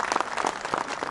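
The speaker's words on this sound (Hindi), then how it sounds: "सब लोग ताली बजा के उनका स्वागत करेंगे" Audience applause in a hall welcoming the chief guest at a Graphic Era university convocation ceremony, a short burst of uneven clapping at moderate volume.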